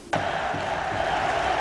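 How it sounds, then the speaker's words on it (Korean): Dense crowd roar erupts abruptly and holds steady as baseball fans cheer in a Korean pro ballpark, loud and sustained with no speech over it. "2년을 기다린 팬들은 환호했다."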